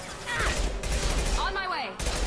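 Sustained rapid gunfire from Mass Effect 2 on PS4, a dense volley of shots running throughout with voices and game chatter over it.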